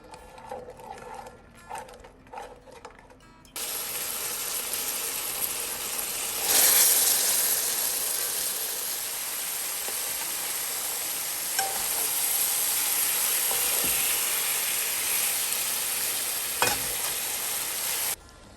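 Beef pieces sizzle and crackle loudly in hot caramelized sugar, stirred steadily, with a brief softer start before the full sizzle swells and holds; occasional clinks of the spoon stand out, with no talking.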